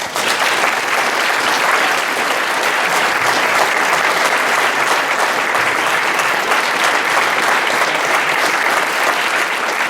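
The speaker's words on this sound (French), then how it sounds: "On peut les applaudir." Audience applause fills a radio station's 30th anniversary celebration speech, a steady dense wash of many hands clapping, loud and continuous throughout without a break.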